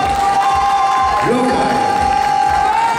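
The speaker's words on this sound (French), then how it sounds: "la partie qui est ici, on peut les applaudir, s'il vous plaît" Audience at a summer manga and gaming convention's cosplay contest results applauds and cheers for a cosplay group, a steady crowd roar with whoops and a sustained tone over it, no clear speech.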